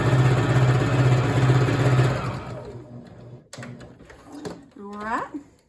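Sewing machine running steadily while stitching a quilt block seam for nine patch blocks, a loud continuous mechanical hum for about two seconds, then it stops and soft handling noises and a brief voice follow.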